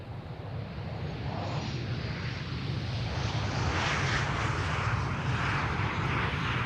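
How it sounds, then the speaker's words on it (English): A Boeing 737 passes at Amsterdam Schiphol airport, a broad rumbling jet roar that swells gradually and stays loud and steady, heard from outdoors with some wind noise and no talking. "Oh, that's the 737."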